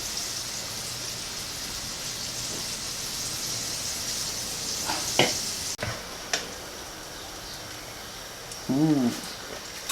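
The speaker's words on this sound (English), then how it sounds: "Making some crispy tofu, killing the heat" Crispy tofu fries in a pan with a steady, fairly faint sizzling hiss, broken by a few sharp ticks and clatters and a short burst of louder activity near the end.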